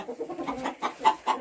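Chickens on a hot northern homestead, including newly arrived birds from an Ekaterinburg poultry plant, cluck in a quick series of short, close, moderately loud bursts that run together without pause.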